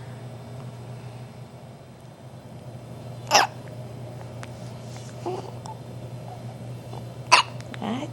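A baby's hiccups come twice, several seconds apart, as short, sharp, squeaky bursts over a quiet indoor hum, with a faint soft sound between them.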